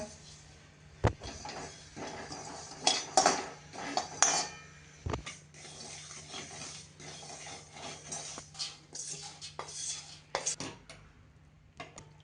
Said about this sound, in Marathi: आता जिरं भाजून घेऊया.